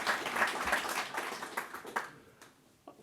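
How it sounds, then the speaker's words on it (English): An audience at an opening session of an economic forum gives a burst of applause for a speaker, dense clapping that thins out and fades within a few seconds. "please also give him a big applause"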